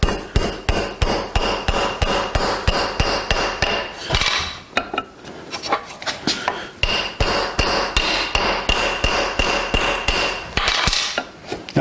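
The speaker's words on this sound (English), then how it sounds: "We're just going to take and drive this pin in." Sharp, rapid hammer strikes drive a steel pin into a Reed 602 vise during restoration, ringing metallic blows in fast steady bursts with a brief pause midway, close and loud with no talking.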